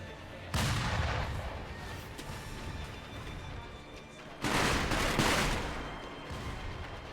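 In Sekiro: Shadows Die Twice, two loud bursts of gunfire with heavy booming blasts are heard, each followed by sustained rumbling and crackling that slowly decays.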